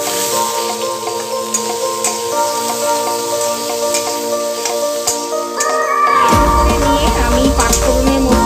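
Boiled, crushed potato hits hot oil seasoned with panch phoron, and a steady sizzle builds louder midway as frying continues, with kitchen hum underneath.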